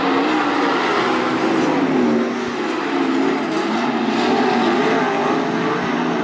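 410 sprint cars roaring around the Attica Raceway Park dirt oval in a heat race, a dense, loud engine wail that rises and falls as the pack passes, continuous throughout.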